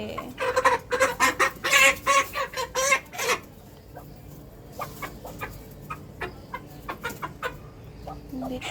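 A chicken clucks repeatedly and loudly at first in a quick agitated series, then keeps up softer scattered clucks nearby.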